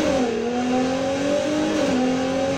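Aston Martin DB11 Volante 2019 in Need for Speed Heat, its engine droning steadily with rising and shifting revs as it drives, loud and continuous with no talk.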